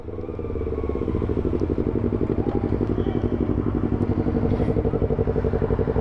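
A Yamaha R25 with a loud aftermarket exhaust idles and revs nearby, a rapid, pulsing, crackling rumble that stays steady and close for several seconds.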